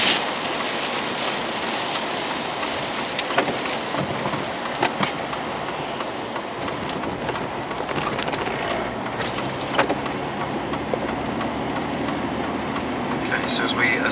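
Steady, dense rain falls outdoors in the mountains of western North Carolina and eastern Tennessee in late October, a continuous hiss with no break across the stretch.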